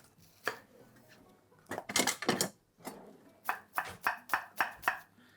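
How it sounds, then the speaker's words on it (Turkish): Rapid knife chops on a board as onions and peppers are cut, first scattered then a quick regular run of crisp strikes, close and clear. "soğanları, biberleri doğramıyor musun?"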